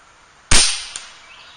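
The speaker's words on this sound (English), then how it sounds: "let's see if we can't get some velocity readings and hear some lead downrange here" An Air Venturi Avenger .25 air rifle lets off one crisp, loud shot, followed a moment later by a faint smack of the projectile striking a target downrange, then a fading tail.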